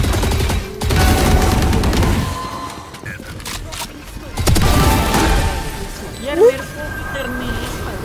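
Two rapid, loud bursts of automatic gunfire from the video game Valorant come close together, with quieter game noises and voices in between.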